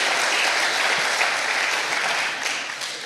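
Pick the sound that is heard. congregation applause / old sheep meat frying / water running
congregation applause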